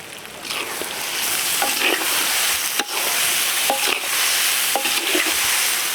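Tomatoes go into a pan of browned ginger, garlic and onion for a Kashmiri duck masala. They fry with a steady, bright sizzle, and a few sharp clicks of stirring break through the hiss.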